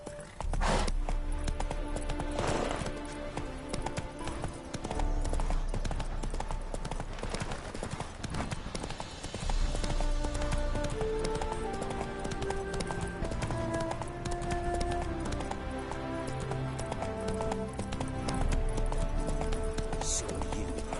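Roach, Geralt's horse in The Witcher 3, gallops at full speed in a race, a continuous close drumming of hooves over a long stretch, with game music and occasional voices faintly mixed in.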